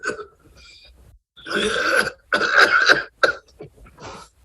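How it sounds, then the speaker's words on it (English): Harsh coughing fits from a person ill with COVID, several loud bursts in close succession, some forced and throaty, heard close up with short pauses between them. "This is actual audio of my cough."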